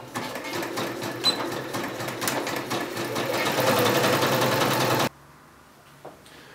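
A domestic sewing machine stitches fabric for the back pockets of trousers, running as a steady, close mechanical whir for about five seconds, then stopping abruptly, leaving near quiet with a faint click.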